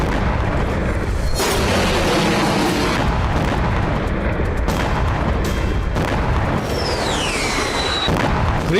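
Back-to-back late-night blasts during a drone and missile strike on Crimea in the Russia–Ukraine war, a dense, continuous roar of booming explosions with a whistling streak near the end.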